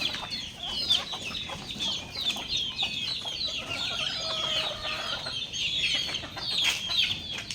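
Chickens in a coop clucking and chattering continuously, several birds at close to moderate distance with overlapping calls and occasional louder squawks.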